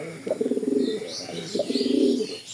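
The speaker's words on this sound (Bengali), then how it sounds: "এই যে নটটা ডাকতেছে, খুবই সুন্দর বিগ সাইজের একটা কবুতর" A large racing pigeon cock coos twice in low, throaty rolling bursts, close and fairly loud, with a short pause between the calls.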